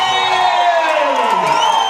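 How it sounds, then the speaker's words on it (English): Big crowd cheering and whooping for boxer Edwin Reyes at a Tri Star Boxing event in Nashville, a dense, continuous roar of shouts and whistles filling the arena without letup. "Big crowd here for Edwin Reyes."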